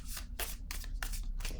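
Playing cards being shuffled and drawn by hand, a quick run of crisp riffling bursts close up, alone with no talking.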